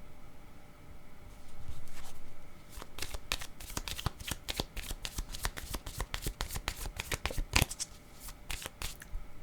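Playing cards being shuffled close by in a run of quick, crisp riffles and slaps, following a soft rustle, with no talk.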